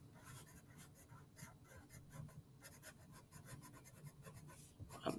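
Pencil or pen scratching scrawly zigzag lines on paper while sketching a Christmas tree, a quiet continuous rasping with short repeated strokes, close and alone with no talking.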